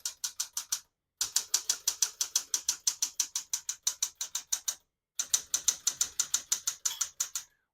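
Rapid mechanical ratcheting clicks from the line space lever of a 1967 Smith-Corona Super Sterling portable typewriter, in quick regular bursts with two brief pauses, crisp and close.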